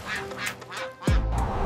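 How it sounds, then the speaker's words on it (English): Cartoon ducks quacking as they scatter in a park, a few sharp nasal quacks in quick succession followed by a loud low thump, close and clear with no speech. "In the park, AumSum's jump makes the ducks scatter and swing wildly."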